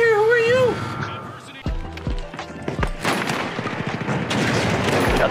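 Sharp bursts of gunfire ring out in a shooter video game, several close shots and rapid fire over about five seconds, mixed with game effects and someone talking.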